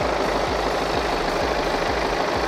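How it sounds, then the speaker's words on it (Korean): A steady, low diesel engine idle from a BMW 3 Series GT 320d xDrive (F34), with a regular pulsing rhythm, loud and close, with no talking. "엔진 소리 일정하고 좋습니다"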